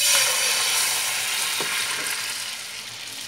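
Honey garlic soy sauce sizzles and bubbles in a pan, a steady close hiss with a faint clink of a utensil partway through, no one speaking.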